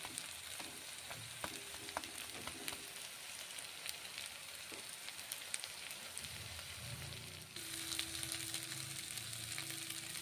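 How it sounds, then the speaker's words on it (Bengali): Chhana vadas cooking in spiced masala in a pan, with a steady close sizzle and occasional stirring clicks throughout, the frying growing slightly louder near the end. "মশলা হয়ে গেছে কষে নেওয়া, ছানা বড়াগুলো ছেড়ে দিলাম।"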